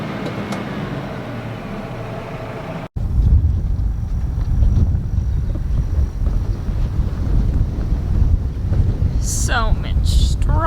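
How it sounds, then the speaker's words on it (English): Strong wind gusting across a straw field on a breezy farm day, a steady heavy roar buffeting the microphone with rumbling low noise throughout, briefly cut, plus a few faint high chirps near the end; no speech. "Man, it's breezy."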